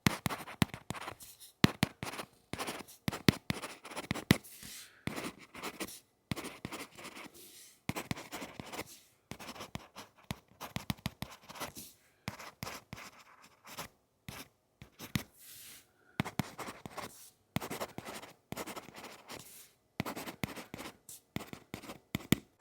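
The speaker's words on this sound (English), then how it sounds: "here's how each of these styluses sound while writing" Styluses write on reMarkable Paper Pro and reMarkable 2 tablet screens, making quiet, close, pencil-like scratching in quick irregular strokes with short pauses between words.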